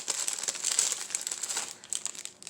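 Craft scissors snip and rustle through fuzzy chenille stems for an Easter wreath, a close, quick run of soft crinkly cuts with no voices.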